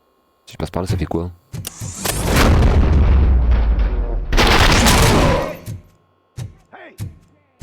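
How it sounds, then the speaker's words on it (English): Gunfire in the RoboCop: Rogue City video game erupts as sustained loud bursts of booming shots between stretches of close voices talking. "Am I hearing gunshots?"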